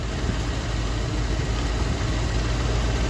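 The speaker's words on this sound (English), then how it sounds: "Engine's still running." Engine of a 1966 Ford Thunderbird idling with a steady low rumble and vibration, constant and moderately loud, no talk over it.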